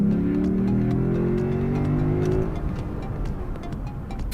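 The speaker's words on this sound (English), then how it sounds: "it has an 8-speed gearbox, a 5-liter V8, which pushes out 311 kilowatts of power" A 2012 Lexus IS F with a 5-liter V8 and 8-speed gearbox accelerates hard, its engine note climbing loud and close before easing off after about two and a half seconds.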